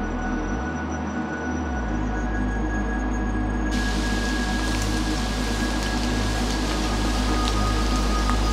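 Steady rain falling in a forest, a dense continuous patter and hiss that stays even throughout with no talking.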